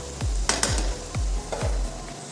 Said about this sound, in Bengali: একটু মশলাটা সহকারে আলুটা একটু ভাজা ভাজা করে নিই